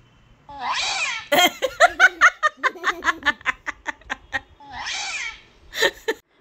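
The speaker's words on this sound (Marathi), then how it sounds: "ती आवाज करती मांजर" A cat gives two drawn-out meows separated by a fast run of short, sharp vocal bursts, close and loud.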